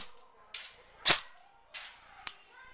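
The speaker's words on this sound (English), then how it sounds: "So as you can see, very high rate of fire. That's probably shooting about 24 bullets a second." An airsoft gun powered by an 11.1 V LiPo battery fires five sharp, close single shots at roughly half-second intervals, each a crisp snap against near silence.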